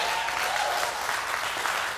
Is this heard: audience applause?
yes